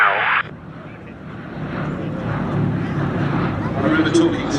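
A P-51 Mustang warbird passes at an airshow, its engine roar swelling and building over a broad rumble after a short burst of other noise at the start, growing louder toward the end.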